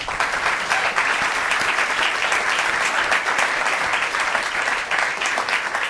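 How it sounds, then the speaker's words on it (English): A live studio audience breaks into sustained applause at the close of a talk program, a dense, steady wash of many hands clapping together for several seconds with no speech over it. "Would you give yourselves a round of applause?"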